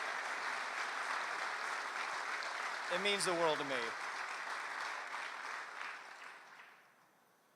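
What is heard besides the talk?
audience applause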